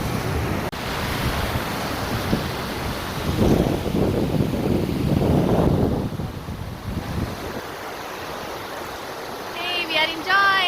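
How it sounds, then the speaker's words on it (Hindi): Strong ocean waves break and wash ashore at Tanah Lot beach in Bali, a steady loud surf roar with wind buffeting the microphone; the surge swells midway, then eases, with faint voices and a brief tonal sound near the end. "तो ये देखो लहरें कितनी तेज़ आ रही हैं"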